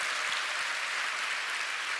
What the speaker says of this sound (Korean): 우리 모든 찬양팀들에게 박수하겠습니다